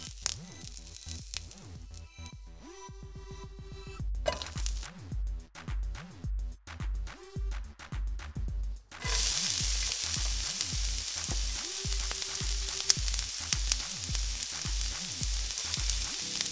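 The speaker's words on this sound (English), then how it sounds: "We're gonna cook and stir until the butter melts." Butter melting in a pan as it is stirred, with a dense crackling sizzle that pulses in rhythmic bursts at first and then settles into a louder continuous hiss.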